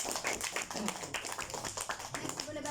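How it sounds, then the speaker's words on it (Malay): A classroom group clapping for a student during a lesson, a dense burst of many hands clapping at close range, with a voice speaking over it. "Oke, berikan tepukan untuk Next."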